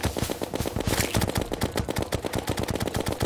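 Rapid continuous gunfire from the Minishark gun in Terraria, a dense fast rhythm of sharp shots that stays loud and steady throughout with no talking.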